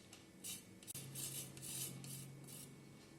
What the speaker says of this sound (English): Use a microplane or a sharp knife to get the lemon zest